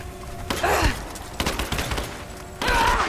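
Gunfire in the Tomb Raider video game, bursts of rapid shots in two or three clusters over a constant rumbling game background, fairly loud with no talk over it.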